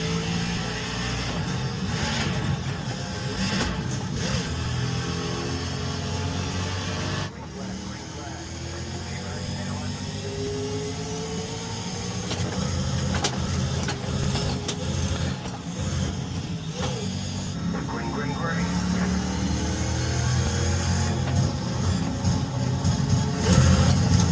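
Racing car engine from a sim racing video game, with fluctuating revs and gear shifts, playing moderately loud and continuous with a brief dip partway through.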